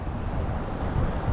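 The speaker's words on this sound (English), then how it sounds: "So it's kind of windy on and off right now." Wind gusts across a fishing lake in Selvin Park, Minnesota, buffeting the microphone with a low, steady rumble that swells slightly toward the end.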